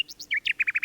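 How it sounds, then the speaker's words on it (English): A nightingale sings a quick run of bright, high chirps and whistles, ending in four evenly spaced repeated notes, clear and close with no other sound. "Nightingale."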